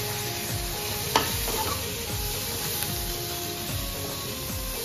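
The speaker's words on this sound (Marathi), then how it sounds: "त्याच्यामध्ये बोंबील धुवून घेतलेले टाकणार आहे।" Washed dried Bombay duck (bombil) fries in hot oil in a pan, a steady close sizzle with faint stirring scrapes and one sharp clink from a utensil, no voices.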